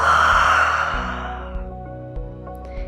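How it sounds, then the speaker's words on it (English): A single long, breathy exhale during an aerial yoga breathing exercise, loud and close at first and tapering off over about a second, followed by quiet room tone with faint soft sounds; no talking. "Take another big inhale. And a big exhale."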